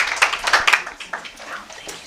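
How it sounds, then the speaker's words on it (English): An audience at a talk on supporting patients and families claps, giving a modest patter of close handclaps that thins out over two seconds. "just applause for our wonderful people"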